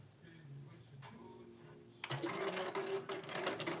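A home sewing machine runs a basting stitch, starting after a soft, quiet stretch with a brief whir and then rattling along loudly and rhythmically, with a voice heard faintly at times.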